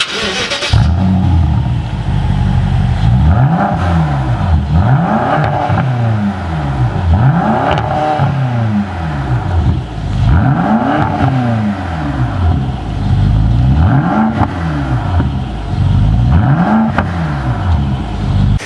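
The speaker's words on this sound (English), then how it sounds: "this one has actually straight pipe, and let me tell you, it sounds insane" A loud straight-piped BMW X5M engine with quad exhaust revs repeatedly, each throttle blip climbing and falling in a rhythmic series of roaring sweeps close by.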